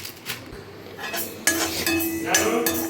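Fenugreek seeds, half of a 100 g packet, dry-roasting in a pan as a utensil scrapes and clinks against the metal in close, steady bursts.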